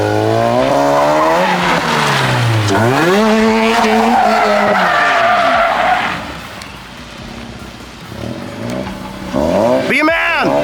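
A Mazda RX-8 drift car screams through rising and falling revs with loud tire squeal and skidding, close and intense. It eases briefly, then revs sharply again at the end.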